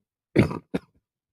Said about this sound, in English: Sorry for all the coughing, by the way.